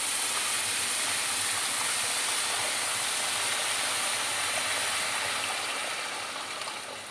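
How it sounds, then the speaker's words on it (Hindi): Water pours into a hot pan of frying grated carrots and rice for gajrela, making a loud, continuous hissing rush that tapers slightly at the end. "अब हम इसमें डालेंगे पानी।"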